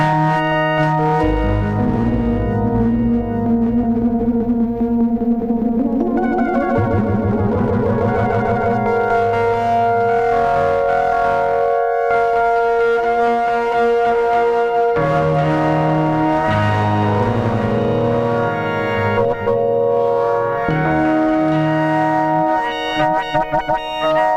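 A Waldorf Blofeld synthesizer drones with shifting, resonant tones that sweep and warble, its filter tweaked into squelchy, twisting overtones throughout.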